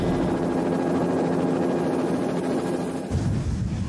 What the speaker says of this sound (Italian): Mark Davis non si limita a monitorare l'attività del vulcano dall'elicottero